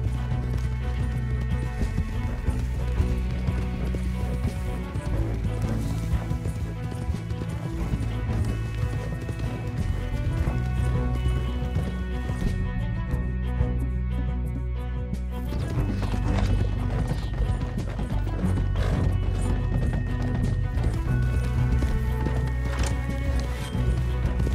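Horses gallop with steady clip-clop hoofbeats and an occasional whinny in a Western video game, the hooves running continuously and loud over a full bed of game music.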